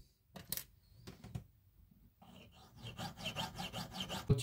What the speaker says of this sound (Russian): Здесь нужно в зерне просверлить отверстие до конца.